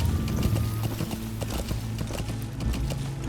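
Horse hooves clip-clopping in a steady rhythm while riding on horseback in the video game Metal Gear Solid V: The Phantom Pain, loud and close over a low game music bed, with occasional brief whinny-like tones.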